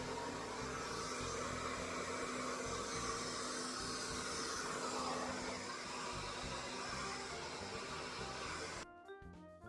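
A hair dryer blows steadily on curly hair, a loud, continuous whooshing roar that holds for several seconds before cutting off abruptly near the end, with no talk.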